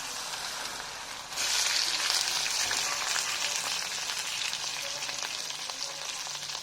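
Cut taro hitting hot oil in a pan for an Assamese fish curry with elephant apple, bursting into a sudden loud, steady hiss and crackle that holds close and constant, with no voices.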